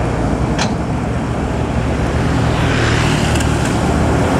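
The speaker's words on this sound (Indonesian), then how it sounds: "Terpantau bus ALS antar lintas Sumatera." An ALS intercity bus, a Mercedes-Benz OH1626, passes on a Sumatra highway with a loud, steady roar of engine and road noise close by, amid constant traffic.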